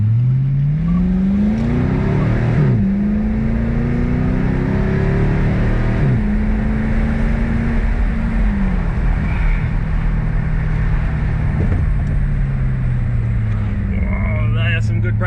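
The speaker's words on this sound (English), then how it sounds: "Just something about a V8, I can't get a smile off my face" V8 car accelerating hard, the engine note climbing in several rising sweeps between gear changes, loud and close throughout, with an occupant talking over it.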